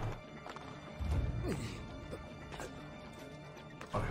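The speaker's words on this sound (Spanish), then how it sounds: "Súbete al caballo, súbete al caballo." A horse gallops in the game Assassin's Creed II, its hoofbeats thudding and clopping against a busy game soundscape, with a heavy crash partway through and another burst near the end.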